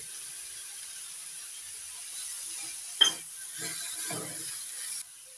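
Red amaranth greens frying with peanuts, lentil dumplings and poppy seeds give off a low, steady sizzle, broken by a sharp clink near the middle and a few soft scraping stirs in the pan.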